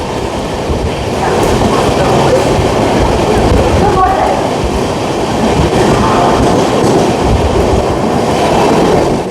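Amrit Bharat Express train 13065 Howrah–Anand Vihar speeding past Belur, heard from inside as a loud, continuous rumble and rattle of wheels on track with faint squeals, while a voice talks underneath.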